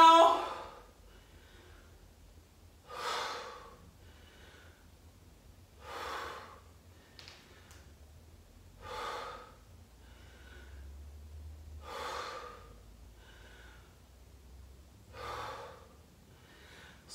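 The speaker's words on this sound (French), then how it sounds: "Calmez votre respiration." Someone breathes heavily after cardio exercise, with regular deep gasping breaths about every three seconds, close and fairly quiet over a low background rumble.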